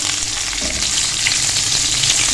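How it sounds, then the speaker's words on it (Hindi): Lemons for green chilli pickle fry in a pan with cumin, giving a steady, loud oily sizzle throughout, with no voices. "इसको हम पहले फ्राई करेंगे क्योंकि इनका जो स्किन है ये सख्त होती है"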